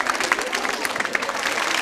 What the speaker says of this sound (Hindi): तालियां जोरों से बजाइए इनके लिए भी